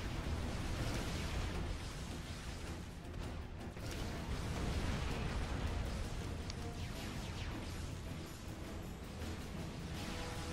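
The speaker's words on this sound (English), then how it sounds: "What was that explosion?" Explosions and heavy battle rumble in the real-time strategy game Supreme Commander: Forged Alliance, a dense, continuous roar of booms and crackling blasts that stays loud throughout without any speech.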